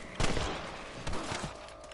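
Rifle shots ring out in the Red Dead Redemption video game, two loud cracks about a second apart, each followed by a rolling echo, against ambient background noise.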